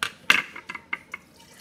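Bacardi rum poured into a blender makes a few short splashing, dripping bursts close by, the first two strongest and the rest fading.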